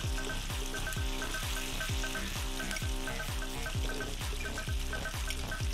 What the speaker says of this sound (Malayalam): തേങ്ങാപ്പാൽ നമുക്ക് ഇപ്പുറത്തെ സൈഡിലും കൂടി ജസ്റ്റ് ഒന്ന് ഒഴിക്കുവാണ് വെച്ചിട്ട്.